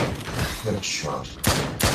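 Two sharp gunshots ring out near the end in the VR zombie shooter Drop Dead: Dual Strike Edition, played on an Oculus Quest 2, over a busy game backdrop with a voice talking.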